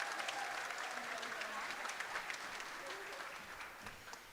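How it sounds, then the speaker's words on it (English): Steady applause from an audience at the opening ceremony of a jigsaw puzzle national championship, a dense wash of clapping that holds evenly throughout and fades slightly near the end. "give these guys a round of applause"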